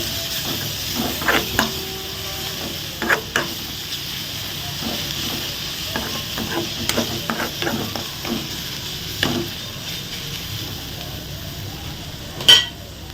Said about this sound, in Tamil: கொஞ்சம் மிளகாத்தூள் சால்ட்டும் போட்டு நல்லா மிக்ஸ் பண்ணுவோம்